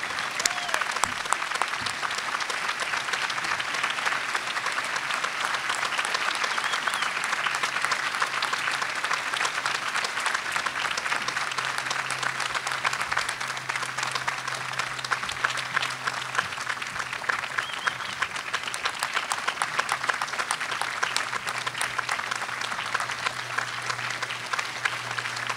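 A large audience at a college commencement claps in dense, sustained applause that holds steady and loud from start to finish, with no voices rising above it.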